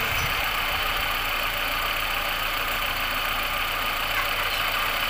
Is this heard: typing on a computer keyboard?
no